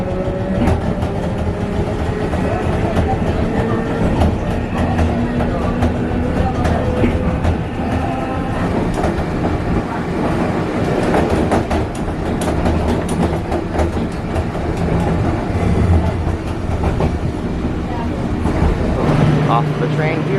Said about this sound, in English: I get the retro train.